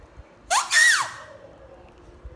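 A single shrill, wailing paper whistle rises and falls for about half a second, a loud piercing cry mimicking a peacock's call, then fades to quiet.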